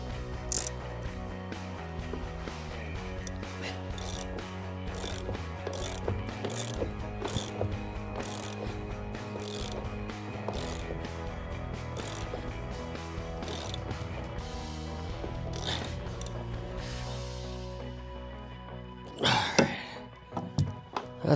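A ratchet wrench tightens a seatbelt mounting bolt and nut in a classic car with repeated close, crisp clicking strokes, followed by a few clunks at the end.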